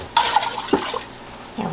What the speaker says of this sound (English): I think I'm going to add 2 cups of water.